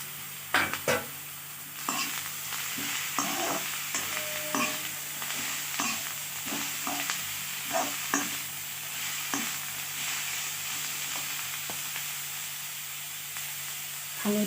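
Chopped banana flower with jackfruit seeds frying in a pan for an Assamese stir-fry, a steady sizzling hiss broken by repeated scraping and clattering stirs, close and fairly loud, no talk.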